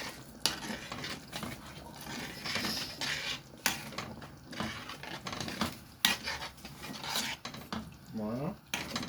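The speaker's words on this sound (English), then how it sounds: "So add the coconut juice, mix it and cover to boil." Curry sauce being stirred after coconut juice goes into the pot, with rough scraping and rubbing strokes of a utensil against the pot, irregular knocks and clanks, close and fairly loud.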